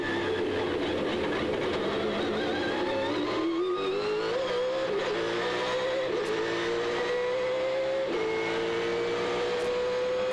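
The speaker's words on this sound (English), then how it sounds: "Coming out of the hairpin, you hear how they feed the throttle." Trans Am race cars at the 2003 Long Beach street race pull out of a hairpin, engines rising in pitch through the gears with shift breaks, a loud continuous roar from nearby.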